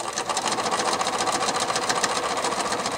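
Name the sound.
sewing machine stitching quilt bias binding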